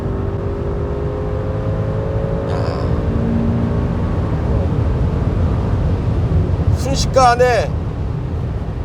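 A Maserati Levante GTS SUV with a 550-horsepower V8 accelerates hard in sport mode, its deep engine drone rising steadily and filling the cabin, while someone briefly speaks over it near the end.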